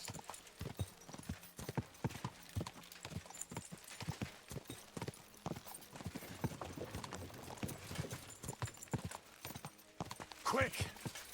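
Horse hooves clip-clop steadily in Kingdom Come: Deliverance II, a close, rhythmic run of sharp strikes with a brief whinny near the end, heard under people talking.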